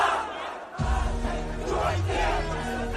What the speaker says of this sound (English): See, the crowd is super amped